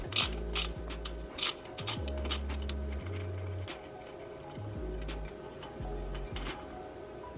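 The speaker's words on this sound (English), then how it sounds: "Now we're going to remove the lower portion of the shock with a 17mm ratchet wrench." A 17mm ratchet wrench works the lower shock bolt on a Toyota Tacoma during a Fox 2.5 Race Series shock install, with repeated close ratcheting bursts and clicks in an uneven rhythm, alone and without talk.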